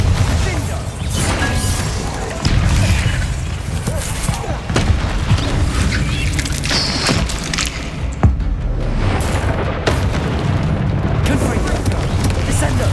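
Spell explosions from Hogwarts Legacy, including the Bombarda blasting spell, go off in loud, dense booms and crashes over continuous battle noise, with a voice speaking over the action.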